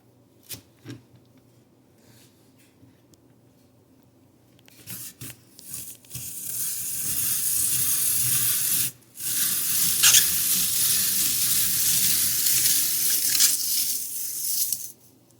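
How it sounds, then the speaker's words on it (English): Apple peeler stripping the skin from apples, a few faint clicks at first, then a sustained wet hissing, scraping whir that runs steadily, breaks off briefly midway and resumes until the end, with no talking. "So here is the peeler and Lacey's going to show us how it works"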